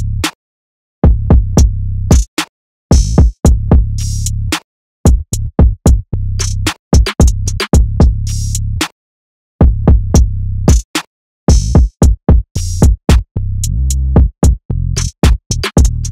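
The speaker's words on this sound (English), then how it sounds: "After that I added this open hat." Open hi-hat added to an ambient beat, hissing on the offbeats between punchy kicks and bass hits, loud and choppy with short silent gaps between phrases.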